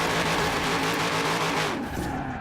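A supercharged 6.2 litre V8 Corvette in Forza Horizon 4 roaring at high revs, a loud steady engine drone that eases off slightly near the end, with no talking.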